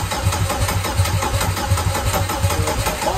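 Turbocharged Chevrolet Cavalier engine running on its first start with the throttle held, a loud steady mid-pitched drone with a regular pulsing rhythm, no talk over it.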